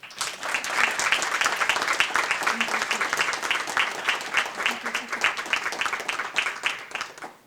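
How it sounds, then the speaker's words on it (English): A business recognition breakfast audience gives a round of applause, steady rhythmic clapping from many hands at close range, continuous and fairly loud. "Give them a round of applause."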